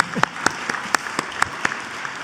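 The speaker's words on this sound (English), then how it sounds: "I would have asked you to applaud, but let's give it to them one more time." At an awards banquet, an audience claps for volunteers: short, evenly spaced handclaps that ring out sharply against a quiet room, with little sign of a full, dense ovation.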